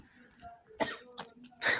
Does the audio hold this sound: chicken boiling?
no